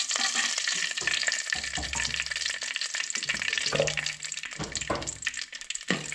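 Whole spices and leaves sizzle and crackle steadily in hot oil, a loud, continuous frying hiss with occasional stirring scrapes close by.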